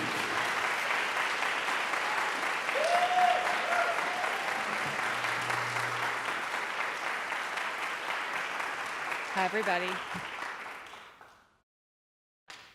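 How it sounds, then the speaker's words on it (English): Sustained applause from a book festival audience, dense even clapping that carries for about ten seconds, with a brief voice near the end, before fading to silence. "And you should give her a tremendous round of applause."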